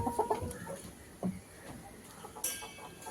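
Chickens cluck nearby in short bursts, with scattered softer clucks and faint farmyard background noise between them.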